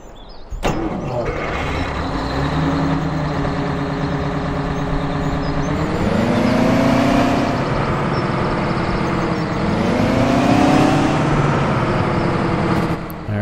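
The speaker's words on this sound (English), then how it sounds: "Alright, so that's what the engine sounds like." A Big Bud tractor engine in Farming Simulator 17, rated at 1100 horsepower, idles with no load in a steady, loud low rumble that runs throughout and swells slightly twice.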